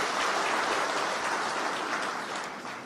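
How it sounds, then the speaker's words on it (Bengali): Audience applause fills a hall at a Bangladesh Election Commission event, a dense, steady burst of clapping from many people that fades slightly toward the end. "সবার জন্য আমরা জোরে একটা হাততালি দিতে পারি"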